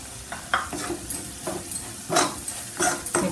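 Garam masala is stirred into tomato and onion frying in oil for a flat-bean bhaji. Loud sizzling continues under rhythmic spatula scrapes and stirring strokes in the pan, all close up and without voices.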